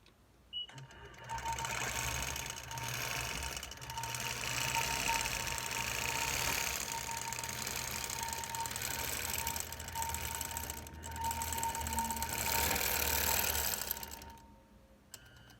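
A sewing machine stitches a quilt seam in a steady, fast mechanical whir, running continuously at close range with a few brief pauses before stopping.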